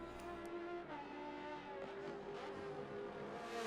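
Nissan Nismo race car engines in a racing video game at Road Atlanta, a steady droning whine with gear-shift pitch changes as cars lap the circuit, fairly faint and continuous, with no talk.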